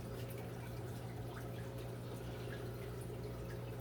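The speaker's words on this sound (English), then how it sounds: "So as the water runs down there" Water from an algae turf scrubber trickling steadily down its screens, a faint, continuous splashing and dripping over a low mechanical hum.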